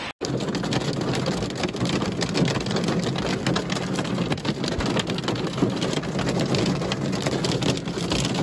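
Heavy rain pounds down in a dense, constant roar of drops hitting surfaces, loud and unrelenting throughout.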